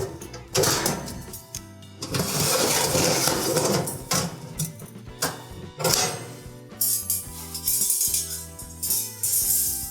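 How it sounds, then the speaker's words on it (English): Metal oven racks being pulled from a Whirlpool stove, scraping and clanking along the rails in a series of loud, close rattles and bangs. "next we'll just remove our two oven racks"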